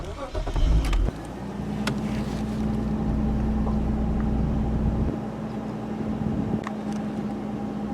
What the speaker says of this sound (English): Now let's fire the engine up.